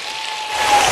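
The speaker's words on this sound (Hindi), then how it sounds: "जोर से बजाओ ना ताली।" A large crowd claps steadily at an outdoor Madhya Pradesh political rally, a dense wash of applause that grows slightly louder toward the end, with a faint tone held underneath.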